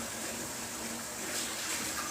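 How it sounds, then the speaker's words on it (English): Water pours steadily from a tap into empty tomato paste cans, a continuous close rushing splash that holds even and unbroken throughout with no talking. "fill these tomato paste cans up with some water"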